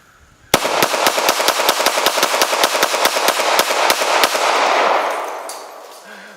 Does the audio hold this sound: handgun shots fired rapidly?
yes